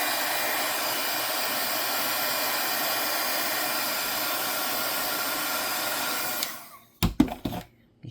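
A hair dryer blows a steady, loud whooshing roar to dry paint on a miniature fairy figure, then switches off near the end, followed by a few brief handling knocks.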